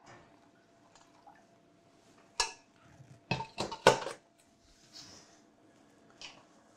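A few metallic clanks and clatters of a saucepan being handled as strained cooking juices go in, with quiet gaps between, close by and without speech.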